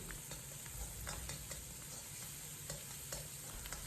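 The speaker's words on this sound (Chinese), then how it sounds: "继续将豆瓣酱炒出红油， 放入蒜末、葱花，爆出香味。" Doubanjiang bean paste sizzles steadily in hot oil with garlic and scallion while a spatula scrapes and tosses at a regular pace, a close, even stir-fry for mapo tofu.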